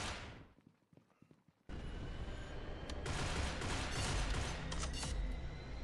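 Gunfire in a multiplayer shooter video game, a few sharp shots early on, then a loud sustained burst of rapid firing and crackling noise that fills the rest of the moment.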